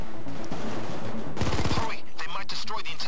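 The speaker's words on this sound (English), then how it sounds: "Oh my god, this thing has such a great rate of fire." Rapid automatic gunfire from a high-rate-of-fire weapon in Payday 2 rattles off in a fast, close burst over game noise, followed by scattered mechanical clatter and effects.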